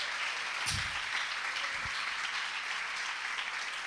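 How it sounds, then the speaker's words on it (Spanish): A church congregation claps together in a steady wash of applause, continuous and moderately loud throughout, with a couple of low thumps. "Vamos a regalarle una ofrenda de palmas al Dios de la gloria."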